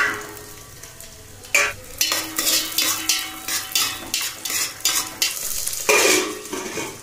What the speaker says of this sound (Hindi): तेल गरम हो चुके धुआं उड़त है। मिर्ची डाल दिया जाए, जीरा अजवाइन थोड़ा घुमा देता हूँ और फिर डाल देता हूँ मटर।